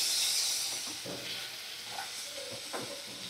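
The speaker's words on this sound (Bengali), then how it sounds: "তো ভালো করে সমস্ত মশলা আমি 2 মিনিট একটু নাড়াচাড়া করে নেব।" Turmeric, salt and cumin paste being stirred in hot oil in a pan, a soft steady sizzle and hiss with a few quiet scraping stirs, close and fairly faint, no talk.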